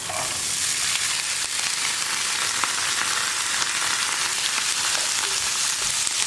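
Wet, freshly washed cut green beans hit a hot pan for a carrot and bean thoran, producing a loud, steady, dense sizzle that holds unbroken throughout with no voices.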